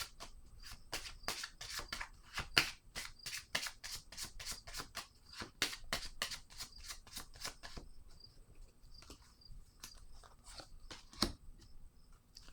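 Tarot cards are handled, shuffled and laid down on a surface in a quiet room, giving a fast run of crisp close snaps and flicks that thins to sparse taps and a final sharp slap, with no talking.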